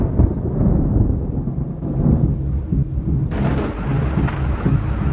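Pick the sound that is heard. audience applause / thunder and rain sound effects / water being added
thunder and rain sound effects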